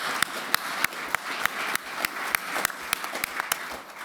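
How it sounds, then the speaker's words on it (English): Audience applause at an LNG shipping panel during a maritime business forum in New York, a steady wash of many hands clapping in a conference hall, with a few sharper individual claps standing out above the crowd. "so if we can just maybe give Nick a round of applause."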